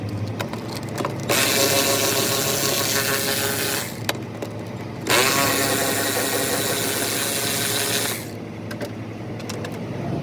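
A hand ratchet loosens car bumper bolts in two long runs of rapid, close, loud clicking, each lasting a few seconds, separated by a short pause.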